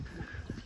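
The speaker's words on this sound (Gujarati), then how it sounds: "મિત્રો ઘોડી છૂટી થઈ ગઈ" A loose mare's hooves thud quickly in a short, quiet burst of irregular clip-clop beats heard from a distance.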